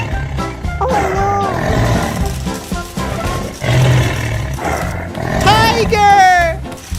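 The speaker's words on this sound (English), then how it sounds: "Tiger!" A cartoon tiger lets out two loud, drawn-out roars, the second one stronger, over busy cartoon music and effects.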